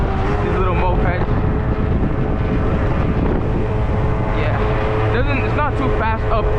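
A stock Yamaha Zuma 2-stroke moped rides along, its small engine buzzing steadily and loudly under heavy wind rush, with someone talking over the ride.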